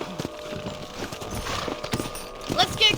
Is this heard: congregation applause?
no